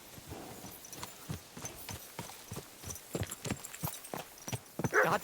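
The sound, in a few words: horse hooves running in Kingdom Come: Deliverance 2 video game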